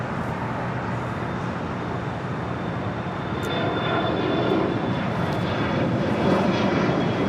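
Air Premia Boeing 787-9 Dreamliner pushing back at LAX, a steady loud broadband jet engine roar that swells slightly toward the end, with a faint high whine running through it.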